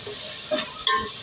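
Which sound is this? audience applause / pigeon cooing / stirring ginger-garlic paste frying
stirring ginger-garlic paste frying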